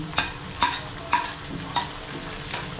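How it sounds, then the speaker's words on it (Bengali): Onions sizzle in a pan for masoor dal while a utensil scrapes and stirs at a steady rhythm, about twice each second. "পেঁয়াজটা আমার হালকা ভাজা হয়ে গিয়েছে বাকি পেঁয়াজগুলো এর মধ্যে দিয়ে দিলাম"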